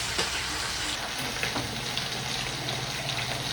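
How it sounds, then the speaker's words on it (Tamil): Chopped garlic sizzles steadily in hot melted butter, a constant soft frying hiss with light crackles and occasional stirring. "பட்டு நல்லா சூடானோடனே நம்ம கட் பண்ணி வச்சுருக்கிற பூண்டை போட்டு உள்ளே நல்லா வளைக்கிறது"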